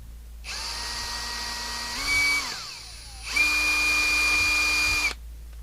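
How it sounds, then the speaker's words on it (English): An electric drill whines at high speed, drilling off a burr on a CB radio front panel lug, running in two loud bursts with a pitch change mid-run and a short pause between them. "Try again to drill that off."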